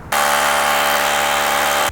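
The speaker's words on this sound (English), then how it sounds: "let's drill some holes." A power drill boring holes while an EV charger is wired to the panel: a loud, steady, close motor whine that starts abruptly and runs continuously for nearly two seconds before cutting off.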